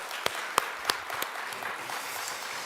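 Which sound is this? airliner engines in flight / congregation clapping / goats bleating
congregation clapping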